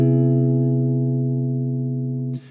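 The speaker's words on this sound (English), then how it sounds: "It's a major 7 sharp 5. It's a lovely modern sound." A single sustained guitar chord rings out and slowly decays, then is cut off abruptly with a short scrape near the end.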